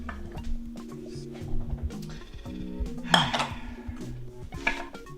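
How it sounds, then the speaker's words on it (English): Roasted carrots shifted into a bowl, with bright clinks and clatter of a metal utensil against dishes and a pan, in short bursts separated by quieter moments. "So now that our carrots are done, I'm gonna get these into a bowl"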